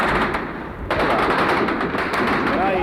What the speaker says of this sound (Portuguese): Há, portanto, tiros, os soldados ocuparam novamente as suas posições.